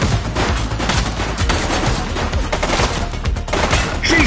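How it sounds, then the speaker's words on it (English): Dense, sustained gunfire from The Precinct, a police action game, with rapid overlapping shots and bursts rattling continuously at close range, loud and busy throughout. "Shots fired!"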